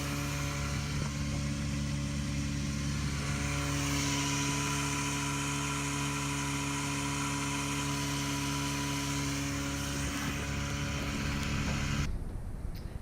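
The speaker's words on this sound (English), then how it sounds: "I can actually get the dinghy up on plane with the 4-horsepower engine" A small dinghy planes along under a 4-horsepower outboard engine, its loud steady buzzing drone running unbroken before cutting off abruptly near the end.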